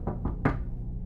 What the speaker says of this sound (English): They bang on Ryana's front door.